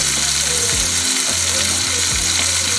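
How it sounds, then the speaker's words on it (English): Quarter-inch pieces of smoked sausage browning in a pan give a loud, continuous sizzle and crackle, close up, with no voices. "I'm heating a pound of that smoked sausage, which I cut up into, I'd say, 1/4-inch pieces"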